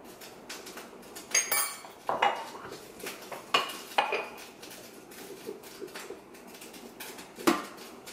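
Homemade tomato vegetable sauce being mixed in a cooking pot, with a string of close metallic clinks and scrapes of a spoon against the pot at an uneven pace, fairly quiet and without talk.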